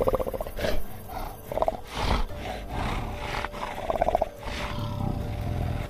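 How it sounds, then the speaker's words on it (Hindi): A menacing monster growl for a horror tale about a four-armed demon, rough and rumbling in repeated surges, fairly loud with a sawing, roaring texture and no voices. "थोड़ी देर बाद अमित को किसी के घुर्राने की आवाज आने लगती है।"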